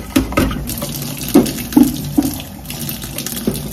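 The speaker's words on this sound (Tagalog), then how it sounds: "I-fill ko muna itong water bottle namin" Tap water runs into a water bottle in a home kitchen in the Philippines, a steady close splashing stream with a few louder gurgling surges as the bottle fills, no talking.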